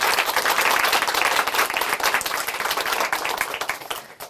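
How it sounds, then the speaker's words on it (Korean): Applause from a church congregation rings out in a dense, steady wash of many hands clapping, loud and close, fading slightly toward the end. "우리 영광의 박수 보내드릴까요?"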